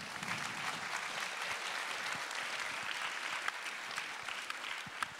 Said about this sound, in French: vous pouvez applaudir Christine.